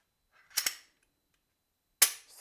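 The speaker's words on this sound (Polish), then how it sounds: "strzał kontrolny" Two sharp mechanical clicks from a Glock 17 9 mm pistol being dry-fired as a control shot, a quick double snap near 0.6 s and another crisp click at 2 s, close and isolated with no talk.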